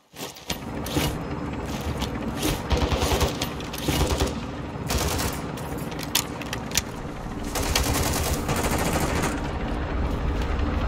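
Rapid automatic gunfire in Call of Duty Warzone 2.0, bursts of shots crackling in dense runs over a steady mechanical background, loud and close, with brief pauses between volleys.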